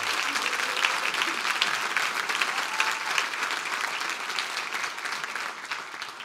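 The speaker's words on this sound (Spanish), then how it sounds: "Dele un aplauso al Señor con ganas esta mañana." A church congregation claps steadily together during a Spanish-language service, a dense, sustained round of applause heard from slightly afar with no talking over it.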